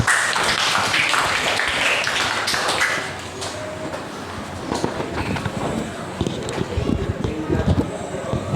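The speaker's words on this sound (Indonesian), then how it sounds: "Oke, tepuk tangan." A classroom of students claps together, a busy, uneven patter of many hands that slackens briefly and then picks up again, with some chatter mixed in.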